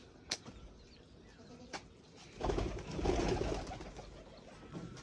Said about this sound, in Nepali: परेवा छ यो